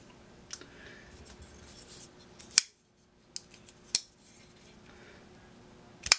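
A Chris Reeve Large Inkosi folding knife opened and closed: a few sharp metallic clicks and snaps, close and isolated, separated by near silence.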